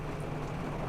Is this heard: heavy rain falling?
yes